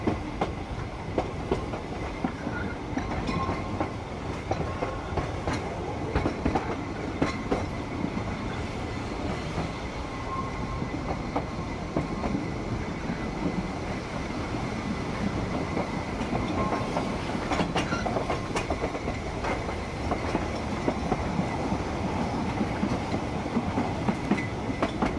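A heritage railway train runs on the line to Porthmadog, heard from inside the guard's van: a steady rumbling roll with rhythmic clickety-clack of wheels over rail joints and occasional faint squeals, continuous throughout.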